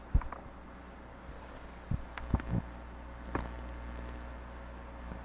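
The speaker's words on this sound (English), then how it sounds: "we click continue, and we click OK" Computer mouse clicking through statistics software dialogs, a few sharp close clicks scattered over a quiet hum, with a small cluster of quick clicks in the middle.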